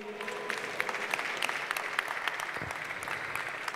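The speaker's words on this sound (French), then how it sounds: "On peut les applaudir." Steady applause from an audience, a dense patter of many hands clapping at an even level throughout.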